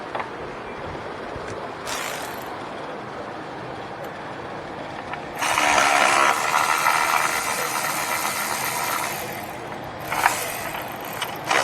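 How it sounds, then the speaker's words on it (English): An electric ratchet whirs on the spark plug and coil bolts of a 5th-generation Jeep Cherokee 3.6 V6, a close mechanical buzz in two bursts, the longer one lasting several seconds, over a hissy shop background. "Grab my electric ratchet here."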